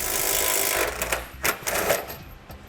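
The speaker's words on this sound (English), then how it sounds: "We're going to go ahead and remove that bolt." A 13mm socket on a ratchet or impact tool removes an M10 bolt from a muffler hanger on a 2016 Volvo XC90. A loud mechanical whir at the start gives way to several sharp clicks and knocks.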